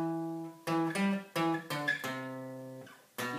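Electric guitar playing a riff, a short run of about six distinct picked notes with gaps, close and fairly quiet, ending with one more note.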